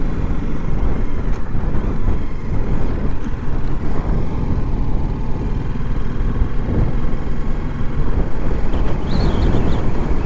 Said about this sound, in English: Bit fucking windy, isn't it? Windy corner.